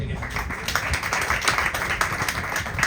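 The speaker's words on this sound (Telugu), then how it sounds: "చప్పట్లు కొడదాం గట్టిగా." A church congregation at a Christian worship service claps loudly together in a quick, steady rhythm, with a voice also sounding over the clapping.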